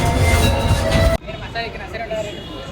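A metro train rumbles loudly near the Secunderabad station, its broadband roar cutting off sharply midway into a quieter interior hum with faint tonal whines.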